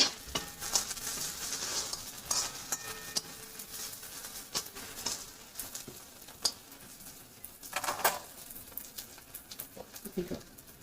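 Mushrooms frying in hot oil in a pan, a steady soft crackling sizzle with occasional stirring scrapes and clicks, close and fairly quiet with no voices.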